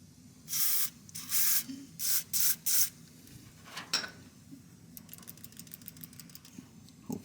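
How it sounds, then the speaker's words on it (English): Aerosol spray hisses onto a gas fireplace in several short bursts, close and fairly loud, followed by faint clicking from a repeatedly pressed button. "I'm going to spray a little bit more."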